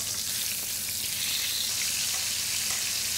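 Sole fillets frying in butter in a pan give off a loud, continuous, close-up sizzle, a bright crackling hiss that holds steady throughout.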